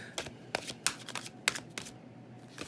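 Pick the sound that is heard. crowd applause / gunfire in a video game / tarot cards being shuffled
tarot cards being shuffled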